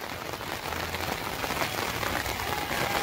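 Heavy downpour in Nainital, a dense steady hiss of rain pounding surfaces that holds loud and unbroken throughout, with no voices.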